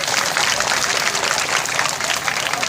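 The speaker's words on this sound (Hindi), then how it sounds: "इसके लिए आप सभी एक बार जोर से तालियां स्वागत करें।" Crowd applause at a Bhagavat katha gathering in a village, dense and continuous clapping at steady loudness throughout.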